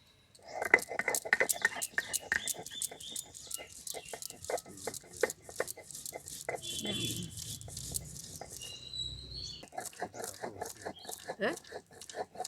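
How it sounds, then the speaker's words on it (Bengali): Cashew, melon seed and poppy seed being ground into a spice paste by hand, heard as close, steady rhythmic scraping strokes repeating throughout with a brief pause midway. "এই মশলাটাকে আমি বেটে নেবো।"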